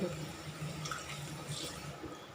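Chicken pieces are rinsed under running water before being battered and fried, a faint steady splashing and trickling close by in a home kitchen.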